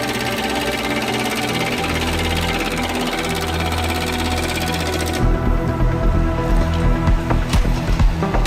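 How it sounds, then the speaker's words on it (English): An excavator drills against hard rock walls on a high, steep cliff with unstable ground. A dense, steady mechanical rattle runs for several seconds, then turns into louder, choppier pounding, with no voices. "the excavator is drilling against the hard rock walls"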